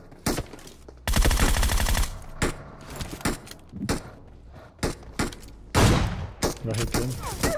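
Rapid bursts of video game M249 machine gun fire, a sustained loud volley followed by shorter scattered shots, with some voice mixed in.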